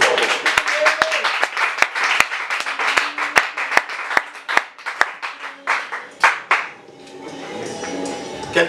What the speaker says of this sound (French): Acclame trop fort.